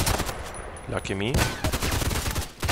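Hip-fired gunshots in the online shooter Contract Wars crack out in quick uneven bursts, loud and close, with someone talking over parts of the firing.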